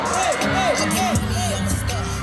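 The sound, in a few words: crowd screaming and cheering at meet and greet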